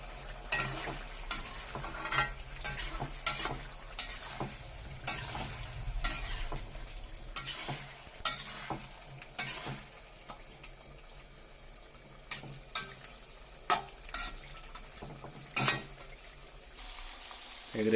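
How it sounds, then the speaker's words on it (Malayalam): Chicken pieces fry in a pan after salt is mixed in, a soft continuous sizzle broken by repeated sharp clatters and scrapes of stirring, moderately close with no talk. "ഏകദേശം ഫ്രൈ ആയി തുടങ്ങിയിട്ടുണ്ട്."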